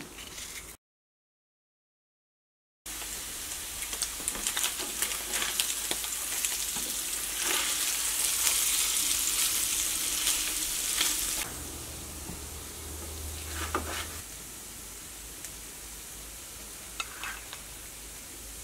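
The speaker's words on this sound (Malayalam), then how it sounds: "അപ്പോൾ നമ്മുടെ പനീര് മുരിച്ചെടുത്തത് റെഡി ആയിട്ടുണ്ട്." Paneer frying in a non-stick pan gives a steady, close sizzle with stirring noises, louder in the middle section and easing toward the end, no voices present.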